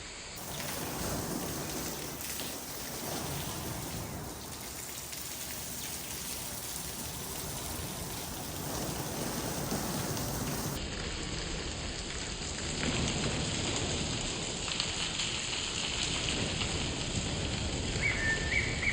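Water sprayed over a Jeep Gladiator imitates rainfall, producing a steady hissing patter of droplets drumming on the truck's body and glass that continues throughout without talk.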